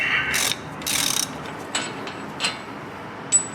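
A ratchet spins off the wheel hub bolts on a Ford F-series truck, with a few short bursts of quick clicking up close followed by single faint clicks and pauses, and no talking.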